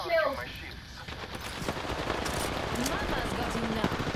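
Gunfire from an enemy squad in the video game Apex Legends, rapid bursts of shots sounding at a moderate distance and fairly faint, blended with game ambience under a continuous wash of background noise.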